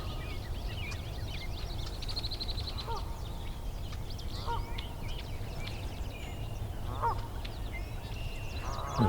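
Canada goose honks ring out a few times in a marsh, moderately distant, over a steady low hum and scattered chirps of other birds.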